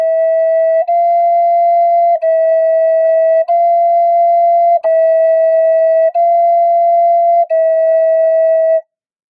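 A Native American flute plays a simple tongued pattern of seven or so steady, pure sustained notes, each briefly separated by a tongue articulation, with a slight pitch step partway; loud, close and solo with no voices.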